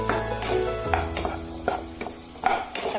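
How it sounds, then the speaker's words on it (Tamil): Tomatoes, garlic and curry leaves sauté in a pan, sizzling loudly while a spatula scrapes and stirs in repeated strokes about every half second, close and unaccompanied by speech. "இப்போ இதை நல்லா வணக்கி எடுத்துக்கலாம்"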